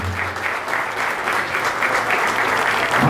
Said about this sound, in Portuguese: Mais palmas, é!